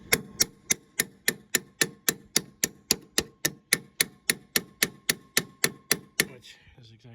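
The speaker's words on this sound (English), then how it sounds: "It's me using channel locks as a hammer." Channel locks pliers serve as a hammer during repairs on a Case 770 tractor, striking about twenty evenly spaced metallic blows in a fast steady rhythm, close and crisp, then stopping abruptly.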